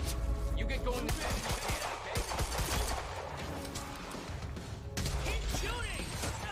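Gunfire in Quantum Break crackles in busy, repeated volleys throughout, layered with other combat noise and voices talking.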